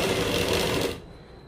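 A sewing machine stitching plain kurta fabric runs in one close, buzzing burst for about a second, then stops, leaving near silence.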